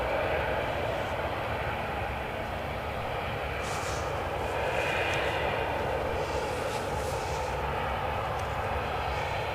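Steady broadband roar of an airliner's engines at Edinburgh airport, continuous and fairly distant, holding an even level throughout with no voices.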